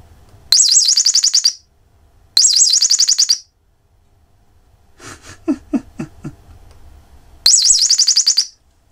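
A Chinese birdsound IC chip plays electronic bird chirps: three identical bursts of rapid warbling trills, each about a second long, separated by silence, with a few low thumps and clicks in between, loud and close.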